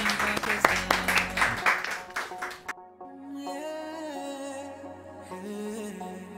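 Studio audience on a Pakistani evening TV talk show claps in a brisk burst that lasts about two and a half seconds, then breaks off as a music bed takes over.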